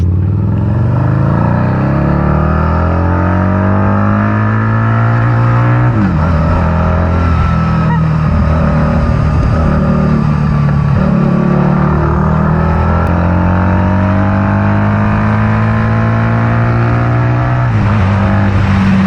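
A 2012 Harley-Davidson V-Rod Muscle motorcycle engine revs hard, pitch climbing steadily through the gears to about 7000 RPM with brief drops between shifts, close and continuous with no voices.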